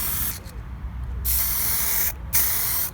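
Clear coat sprayed from a can onto a laser-engraved wooden house number sign, a loud, close, steady hiss broken by two brief pauses as the nozzle is released and pressed again.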